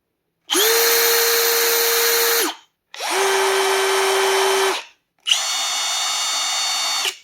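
Three drywall screwguns, a Bosch, a Metabo HPT and a Milwaukee, each run in turn for about two seconds, with short gaps between. Each makes a loud, close, steady high whine, and there is no talk.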